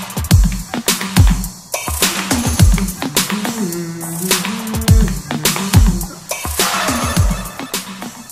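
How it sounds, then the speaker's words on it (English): Layered hook drums in a pop music production with a main kick and snare added, sounding as a busy, loud rhythmic beat of punchy low hits and bright percussive transients over melodic tones, with no talking. "Once you add the main kick and snare, the hook drums sound like this."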